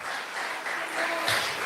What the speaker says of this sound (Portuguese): você pode aplaudir o nome dele bem forte